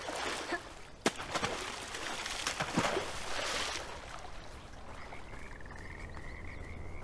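Frog croaking in the video game Bramble: The Mountain King, a series of close, rasping croaks over a forest ambience with soft clicks and rustles, followed by a thin high tone near the end.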